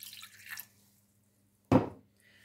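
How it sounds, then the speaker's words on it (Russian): Water poured into chili peppers and garlic as a sauce is mixed, heard as a single short splash midway after a faint earlier trickle, close and alone. "Немножко добавим водички"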